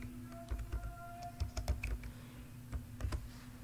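Keys clacking on a computer keyboard while a roll number is typed into a Word document, an irregular run of close, crisp taps in small bursts over a faint steady hum.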